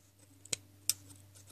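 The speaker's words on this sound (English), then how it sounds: "hold the scissors right, like I'm not doing, and you just cut all the loops" Scissors snip through yarn loops on a small knitted doll earmuff, two sharp close clicks about a third of a second apart over a low steady hum.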